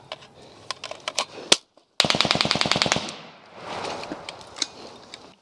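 A firefight during an ambush of U.S. soldiers by Taliban fighters, with rapid bursts of close, loud gunfire, a sharp rattling automatic string in the middle and scattered shots before and after.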